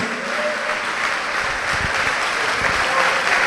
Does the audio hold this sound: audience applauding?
yes